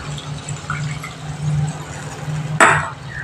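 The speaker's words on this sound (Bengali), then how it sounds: "এবার আমি এর মধ্যে এক বাটি জল অ্যাড করে দিচ্ছি।" A bowl of water is poured into a pan of bata fish curry, a short splashing gush near the end over a low, bubbling simmer.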